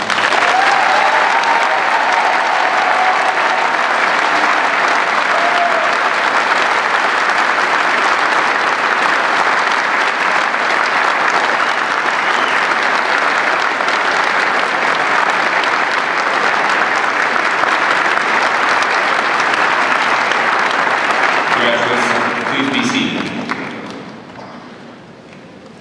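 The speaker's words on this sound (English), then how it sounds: "Please give everyone a round of applause." Sustained audience applause fills a university December recognition ceremony for graduating degree candidates, a steady dense wash of many hands that holds for over twenty seconds before tapering off near the end.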